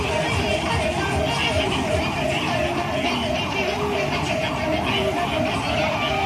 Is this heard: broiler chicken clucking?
no